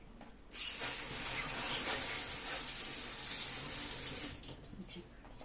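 A tap runs while a fish is washed under it: a loud, steady hiss of spraying water starts abruptly, holds for several seconds, then cuts off to quieter splashing.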